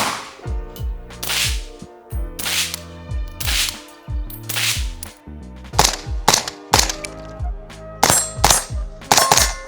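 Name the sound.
suppressed 5.56 rifle gunshots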